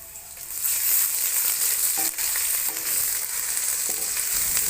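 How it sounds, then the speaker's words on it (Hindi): Ginger garlic paste frying with browned onions in a pot for beef pulao, giving a loud continuous hiss and sizzle with a few scattered scrapes of a stirring spoon. "अदरक लहसुन का पेस्ट डालेंगे इसमें"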